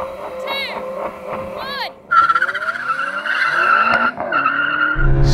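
A BMW M5 launches hard in a drag race, its engine revving up through rising gear pulls with a harsh tire squeal and wheelspin close by, loud and continuous, while a voice speaks over it.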